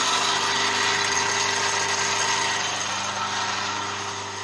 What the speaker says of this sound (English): rated voltage, motor starts rotating. The shaft of the motor is connected to brake drum.